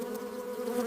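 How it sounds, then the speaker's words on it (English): Honey bees fanning their wings over wax honeycomb cells inside the hive, a steady, dense, continuous buzz at close range with no breaks. "They stand over the cells and beat their wings at incredible speeds"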